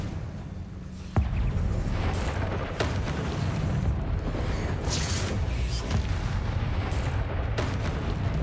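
A Confringo spell blast in Hogwarts Legacy bursts with a sharp, loud boom, followed by a sustained roar of fire and debris, with further rumbling impacts echoing over several seconds.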